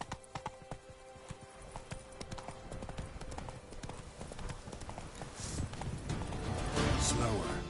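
Horse galloping in the video game The Witcher 3, rapid hoofbeats drumming steadily and growing louder toward the end, with a voice speaking briefly over them.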